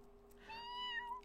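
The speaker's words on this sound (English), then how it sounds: "Oh, she let out such a cute meow." A cat gives a single short, faint meow that rises and trails off, heard close against a quiet room hum.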